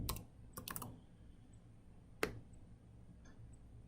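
A few quick keystrokes on a computer keyboard, a short burst then a single tap, faint and close in a quiet room.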